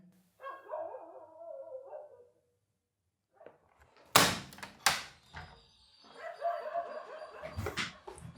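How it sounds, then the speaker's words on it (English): A dog barks outdoors several times, sharp and moderately loud, with quieter stretches and some background activity between the barks. "there's a dog outside that won't seem to quiet down."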